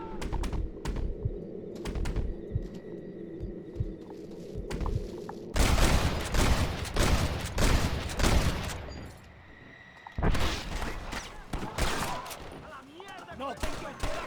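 Repeated gunfire in the Red Dead video game, with bursts of shots cracking in clusters over an ambient outdoor bed with bird calls, loud and close through the middle, easing off, then picking up again.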